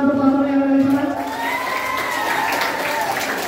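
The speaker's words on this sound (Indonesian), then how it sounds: "tepuk tangan untuk Pak Sony yang ada di sana" A school orientation crowd applauds and cheers for a teacher, a broad wash of clapping and shouting voices at moderate distance, with a speaker's voice ringing over the start before the cheering takes over.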